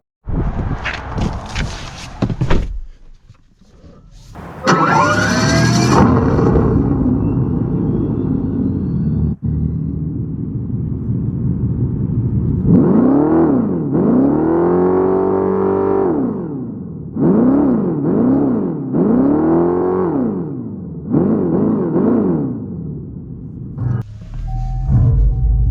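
2025 Dodge Charger Daytona starting up with a synthetic whooshing sweep, then several loud rising and falling drone surges as it accelerates, close and alone with no talking over it.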